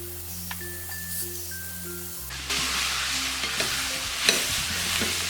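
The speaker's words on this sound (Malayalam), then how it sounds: "ഈ പൊട്ടറ്റോ ഇതിലേക്കിട്ട് ഒന്ന് ഉടച്ച് മിക്സ് ചെയ്തെടുക്കാം." Boiled potatoes are mashed and stirred into a masala in a pan, with quiet scraping at first, then a steady louder sizzle and stirring scrapes with no talk.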